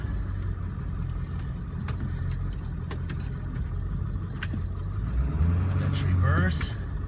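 A Ford diesel truck engine idles with a low, steady rumble while the transfer case is shifted into four low and drive, with clunks, a brief rise in engine note, and someone talking nearby.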